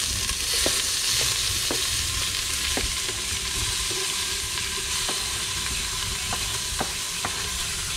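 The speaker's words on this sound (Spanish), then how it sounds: "Y echamos la verdura." Vegetables stirred and frying in hot oil for a snapper and shrimp broth, a steady broadband sizzle with scattered clicks of a utensil scraping the pan, close and continuous with no talk.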